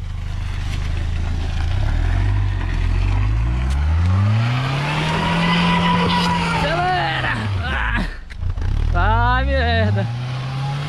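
A car climbs a muddy slope, its engine revving hard and surging up and down in pitch, loud and close, while people shout and talk over it.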